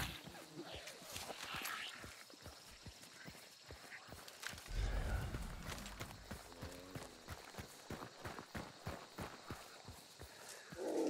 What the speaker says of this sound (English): I think it's also the horse breathing.